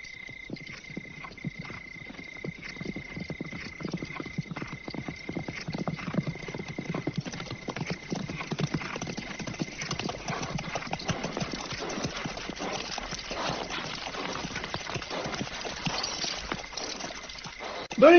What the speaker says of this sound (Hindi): सैकड़ों घोड़े हैं